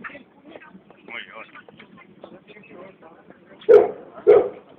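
A dog lets out two sharp, loud barks near the end, close by, following several seconds of people talking outdoors.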